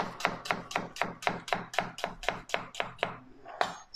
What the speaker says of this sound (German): Ich schneide hier vorne ein bisschen ab, damit ich ein bisschen schönere Zwiebelwürfelchen bekomme.